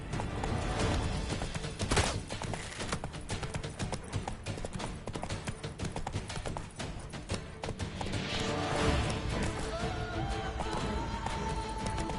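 A horse gallops in the Witcher 3: Blood and Wine video game, with a rapid, continuous clip-clop of hooves over busy game ambience, loud and close throughout.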